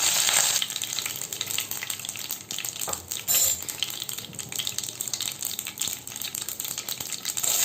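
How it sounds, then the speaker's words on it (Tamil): Mustard seeds, urad dal and curry leaves fry in hot oil, giving a steady, loud, dense sizzle with crackling pops throughout, close up and with no talking. "அடுத்தது கடுகு உளுத்த பருப்பு நம்ம போட்டுக்கலாம். அது லைட்டாக பொரியிற டைமில் இந்த கருவேப்பிலையை நம்ம ஆட் பண்ணிக்கலாம்."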